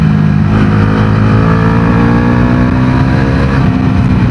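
A Bajaj Dominar 400 (350cc) sports tourer motorcycle engine drones loudly and steadily while riding and leaning through a turn, its tone close and unbroken.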